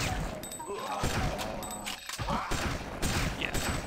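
Rapid volleys of shotgun blasts from the PlayStation 1 game Fear Effect, loud and close, with booming thuds repeating about every half second amid busy game noise.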